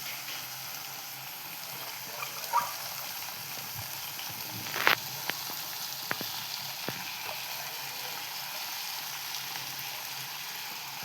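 Onion and chana dal frying in a pan keep up a steady, close sizzle and crackle, with a few soft stirring knocks rising above the hiss and no voices.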